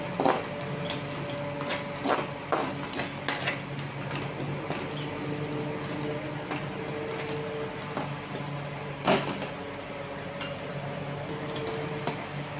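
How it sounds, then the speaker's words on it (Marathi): Pav bhaji masala and other spices sautéing in a pan over a gas flame: a steady close sizzle with scattered scrapes and clinks of a spoon stirring against the metal. "एखादं मिनिट परतून घेते."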